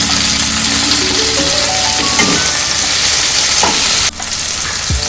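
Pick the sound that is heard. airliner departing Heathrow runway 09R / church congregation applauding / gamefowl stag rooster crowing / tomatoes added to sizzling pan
tomatoes added to sizzling pan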